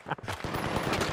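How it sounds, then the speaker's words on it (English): Gunfire in the video game The Finals, with sniper fire coming from the left: dense, loud, overlapping shots and impacts crowding together in a busy firefight with no pauses. "Oh, being sniped from left."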